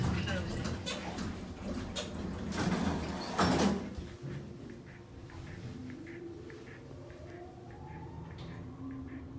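Thyssenkrupp lift at a Birmingham department store, its doors sliding shut with a brief clatter, then the car moving with a low steady hum and a slowly rising whine, heard close under an automated voice announcement.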